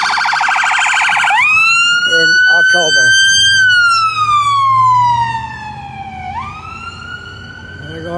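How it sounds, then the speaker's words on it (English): A loud siren wails up and down close by, then fades as it moves away, with a brief spoken phrase in the middle. "There goes the ambulance."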